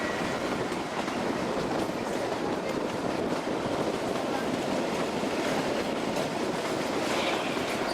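A train rolling along the Kalka-Shimla mountain railway line in the Himalayan foothills of India, a loud, continuous rumble and rattle of wheels on track, close by and steady throughout.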